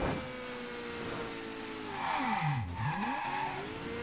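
A fast car driven in the game Mafia III: a steady engine drone that swoops down and back up around a corner, with a faint tire squeal, close and with no one talking.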